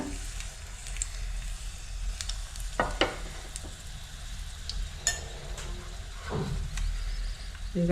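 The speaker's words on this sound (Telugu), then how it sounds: "ఎండుమిరకాయ కొంచెం కాగినాక" Dried red chillies fry in hot oil for an eggplant, cucumber and tomato chutney, a continuous soft sizzle with occasional stirring scrapes and light clinks against the pan.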